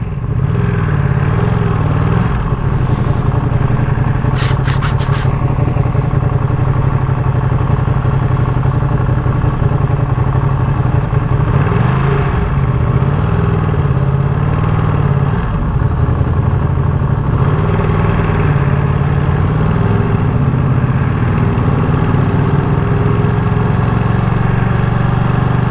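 A 2023 Ducati Panigale V2 Troy Bayliss limited edition motorcycle runs steadily for the whole stretch, its engine droning loud and close with gentle rises and falls in pitch as it is ridden.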